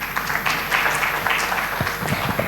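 An audience applauds after a medical lecture on antibiotics, a steady dense clapping that carries on briefly and evenly with no voices over it.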